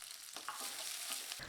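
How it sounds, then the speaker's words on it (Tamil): Chopped small shallots and curry leaves sautéing in hot oil for egg kuzhambu, a soft continuous sizzle broken by a few scraping stirs of the pan, close but faint. "இப்போ வெங்காயம் நல்லா வதங்கிருச்சுங்க"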